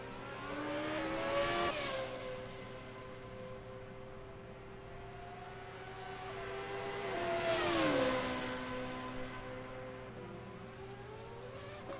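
Formula 2 car engine in a sim racing game at the Red Bull Ring, a high-pitched whining note that climbs and drops through gear changes, with two loud passes and revving swells against a steady background drone.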